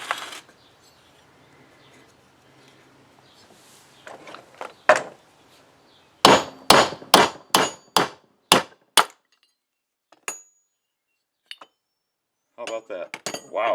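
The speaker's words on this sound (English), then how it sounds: "So hopefully I can hit this with a hammer and start working it back, working it down." A hammer strikes the bearing on an SST16 mower deck. Sharp metallic blows ring out, first one or two, then a quick series of about seven loud evenly spaced hits, with a few lighter taps and clatter at the end.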